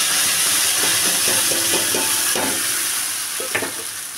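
A ground paste of onion, garlic, ginger and raw tomato hits hot oil and fries with a loud, steady hiss and sizzle, a few clinks and scrapes of stirring on top.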